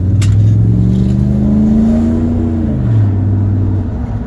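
A Dodge Durango with a blown motor revs loudly and roughly in close range, its engine pitch climbing, holding, then dropping and rising again over about four seconds, with no talk.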